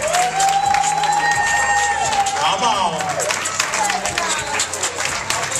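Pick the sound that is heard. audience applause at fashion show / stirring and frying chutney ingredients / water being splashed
audience applause at fashion show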